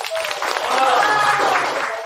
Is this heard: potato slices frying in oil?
no